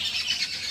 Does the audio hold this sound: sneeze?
no